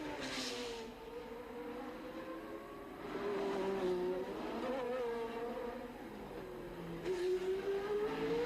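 A 1981 Formula 1 race car accelerates uphill at Monaco, its engine note climbing and falling through the gears as it pulls away, loud and sustained with the revs rising again near the end.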